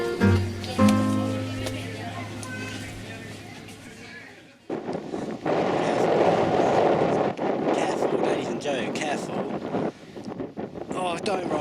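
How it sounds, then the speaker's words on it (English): After a few seconds of quieter sound, strong wind roars and buffets the microphone with loud, continuous broadband noise, while voices talk intermittently. "The wind is quite strong."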